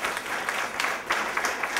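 A crowd claps at a story slam in West Chester, a short, fairly quiet patter of many hands under room reverberation, lasting under two seconds.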